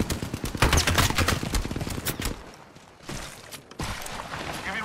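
Gunfire in the Apex Legends video game rattles off in dense rapid bursts, loud and close, broken by a brief lull before more shots resume.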